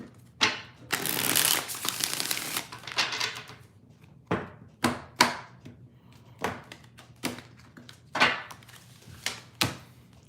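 Tarot cards being shuffled, a dense riffling burst followed by a series of sharp, separate card taps and slaps, close and clear with no talking.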